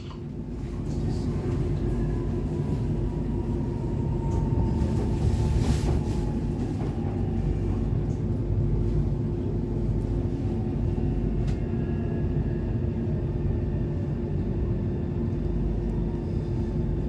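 A DLR B23 stock train runs between King George V and London City Airport with a steady low rumble and rolling clatter, a faint whine sitting above it.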